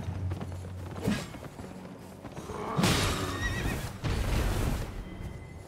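A horse in Elden Ring neighs with loud whinnies among hoof clip-clops and thuds amid game combat noise, with several bursts across a few seconds.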